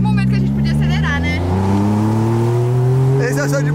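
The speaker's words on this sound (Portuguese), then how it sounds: "aqui era o único momento que a gente podia acelerar" A Porsche accelerates, its engine note climbing steadily in pitch over a few seconds, loud and close, with people talking briefly at the start and again near the end.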